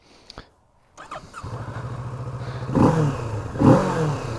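A 2019 Kawasaki Z650 motorcycle engine starts with a click and clatter, then idles with a rumbling pulse, revving up twice in strong bursts nearby.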